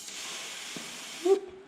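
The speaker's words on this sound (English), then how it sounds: "a little bit of spray lube" A steady spray lubricant aerosol hisses up close for over a second on a 1967 Ford Mustang, then cuts off, followed by a faint metallic clink.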